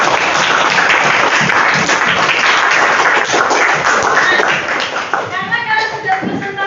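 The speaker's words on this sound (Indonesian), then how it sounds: "Oke ya, tepuk tangan untuk kalian semua." Students in a classroom give a burst of applause, dense close clapping that gradually thins and fades out, with scattered voices mixed in.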